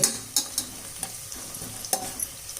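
Onions sauté in a pan for tomato bath, a steady close sizzle broken by scraping stirs of a spoon against the metal.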